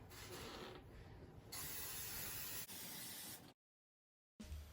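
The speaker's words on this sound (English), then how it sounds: "then you're going to spray your pan with some oil" Cooking spray oil hisses onto a pan in a few sustained bursts, followed by a brief silence and then one final short spray.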